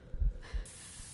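Short spray can hiss from the Resident Evil Revelations 2 game, a brief low burst followed by a steady high hiss near the end, with no speech.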